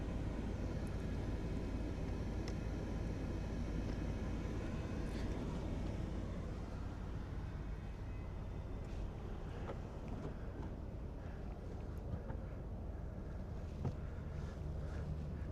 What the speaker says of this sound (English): Sounds like the chopper is coming back.